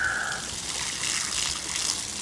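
Water sprays steadily onto a Nautica wide-body 13.5 inflatable boat during a restoration, a continuous close hiss and splash that stays level throughout, with no talking.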